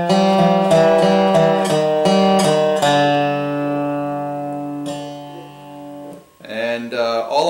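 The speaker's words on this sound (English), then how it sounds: "show you a couple of blues turnarounds that you can do with your Dobro" A Dobro resonator guitar plays a blues turnaround with the slide bar, a run of plucked notes followed by ringing sustained chords, then a few more picked notes, close and clear with no talking.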